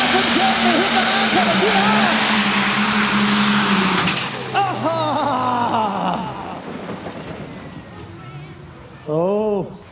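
A limited superstock pulling tractor at tractor pulling finals roars at full power with a dense, loud engine blast that fades away, followed by distant revs and a final sharp rev burst near the end; an announcer talks over it.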